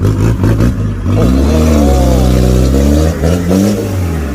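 A dump truck engine in Chumphon, Thailand, revs hard and holds at a loud, steady roar while the truck lifts its front wheels, with strong low harmonics that swell and sweep upward and nothing else heard.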